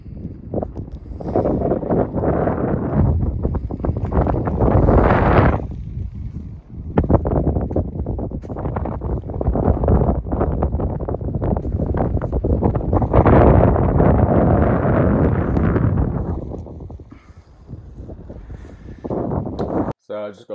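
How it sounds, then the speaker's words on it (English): Heavy wind buffets the microphone on Rough Tor, Dartmoor, during an October wild camp, a loud, rumbling roar that surges and drops in gusts, with a brief lull near the end. "the wind noise was too much"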